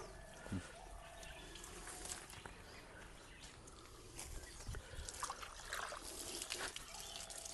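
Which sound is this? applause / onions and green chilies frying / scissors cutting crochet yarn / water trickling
water trickling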